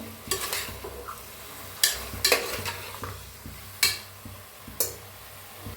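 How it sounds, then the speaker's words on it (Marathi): Chicken with coriander stirred and mixed in a pan, a few scattered scrapes and knocks over a low hum, with no voices. "आणि एकदा मिक्स करूया"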